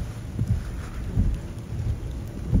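Steady rain falls on Bluff Hill in New Zealand, a continuous broadband wash with low rumbling gusts, close and moderately loud throughout with no voices.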